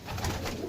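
Pigeons give a brief, low, throaty coo, close and clear against a soft background hum.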